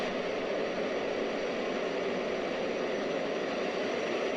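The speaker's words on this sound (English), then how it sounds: "I think those are just how afterburners are in X-Plane 11" Steady broadband roar of an F/A-18F fighter jet's engines with afterburner lit in the X-Plane 11 flight simulator, a continuous even rushing drone with no breaks or voices.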